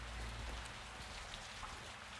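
Heavy rain pours steadily in Call of Duty: Modern Warfare 2, a dense, continuous hiss of drops hitting surfaces with a low rumbling undertone, no voices present.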